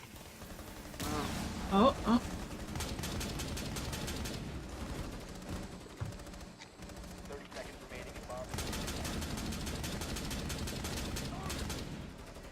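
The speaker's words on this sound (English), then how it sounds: "I can't see who's shooting at me" Rapid automatic gunfire in Rainbow Six Siege, bursts of fairly loud shots with short pauses between, while a player talks briefly.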